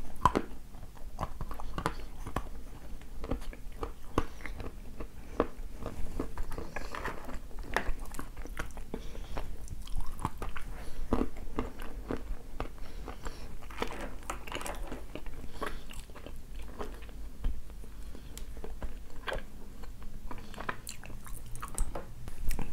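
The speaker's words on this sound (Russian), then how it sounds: "от небольших кусков она очень комфортная, от большого куска уже с усилием откусывается" Pieces of coffee-flavoured Tatarskaya Roza are bitten and chewed up close, giving a long run of repeated crunchy bites and wet, squishy chewing with no speech.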